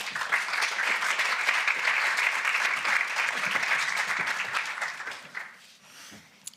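An audience applauds a speaker onto the stage at a conference, steady dense clapping from a crowd that swells and holds, then thins out and fades near the end.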